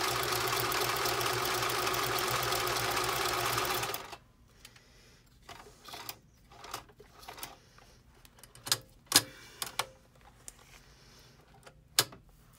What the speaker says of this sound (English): So I'm just going to stitch all the way around. I have it set on a zigzag like Elaine did.